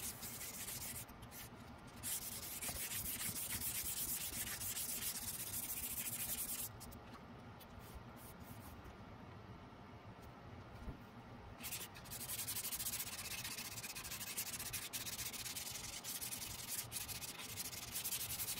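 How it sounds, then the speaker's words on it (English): Wet sanding on the body of a Firebird-style guitar kit, a steady continuous rubbing scrape that runs throughout with a brief softer stretch midway, close and even with no talking. "after you wet sand and go through all those grits, you can polish"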